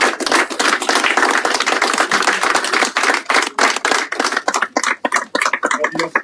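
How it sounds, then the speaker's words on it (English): A crowd claps together at a ceremony honoring officials in Uganda, dense sustained applause for several seconds that thins into scattered, uneven claps near the end. "The way you are clapping for them is not the proper way."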